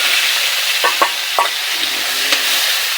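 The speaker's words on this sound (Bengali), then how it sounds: "এখন আমরা মরিচ, পেঁয়াজ, রসুন, শুটকিগুলো একসাথে কড়াইতে দিয়ে দেব।" Dried fish with chili, onion and garlic sizzles in oil in a wok, a steady bright hiss broken by a few soft scrapes of stirring, close and loud with no talking.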